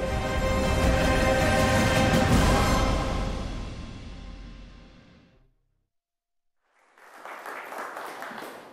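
Audience applause swells into a loud, dense wash of clapping, fades out into brief silence, then picks up again more moderately.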